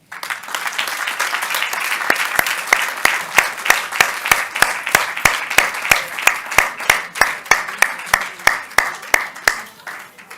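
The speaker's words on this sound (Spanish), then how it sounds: "Vamos a empezar con un fuerte aplauso para Amaya Churruca." Audience applause at an award ceremony: a crowd claps steadily, with one sharp, regular clapper standing out above the wash of hands, fading near the end.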